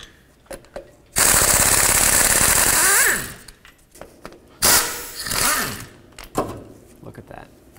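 An impact power tool rattles loose 13mm transmission bolts on a 2013-2019 Ford Escape, with two loud sustained bursts of hammering whir about two seconds and one second long, with short clicks and someone speaking between them.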